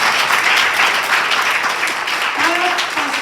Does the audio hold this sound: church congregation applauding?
yes